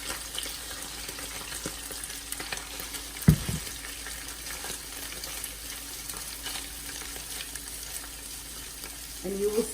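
Shredded beef, already cooked once, fries in hot oil in a home kitchen for a keto vaca frita, a steady soft sizzle with a sharp utensil clatter midway and stirring sounds near the end.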